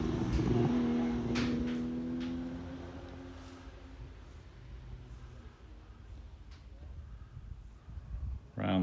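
A Triumph TR6 sports car runs on the Curborough figure-of-8 sprint course; its tonal engine note is strongest at the start, then thins and recedes into the distance, leaving faint background noise before a louder burst at the end.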